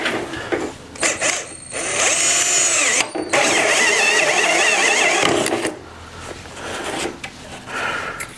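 A power drill whirs up close, drilling a small hole while installing a protection package on a 2025 Kawasaki Ridge Crew side-by-side, revving in a sustained high whine with brief pauses and restarts, no speech.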